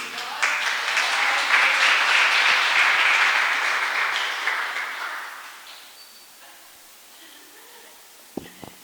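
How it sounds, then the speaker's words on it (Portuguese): A church congregation at a Presbyterian praise service applauds, steady warm clapping filling the room for about five seconds before tapering off to near quiet. "as palmas louvam o Senhor"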